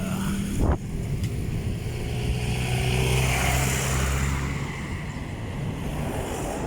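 Motorcycles and tricycles roll past on a road outside a mall in Canlubang, a broad whooshing drive-by swelling and fading under wind buffeting on the microphone, with no talking.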